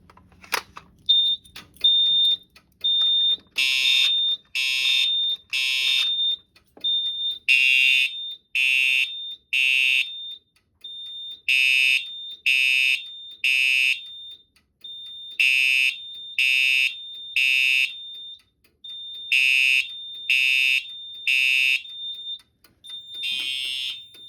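A Simplex 4010 panel's True Alert fire alarm devices on SmartSync code 3 sound loud, clear temporal-three beeps, groups of three pulses separated by short pauses, repeating steadily with no one talking.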